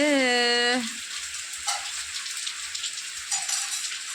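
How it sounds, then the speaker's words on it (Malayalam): Steady, dense hiss of heavy rain pouring down, following a brief voice at the very start. "നല്ല മഴയാണ് നല്ല മഴയാണ്"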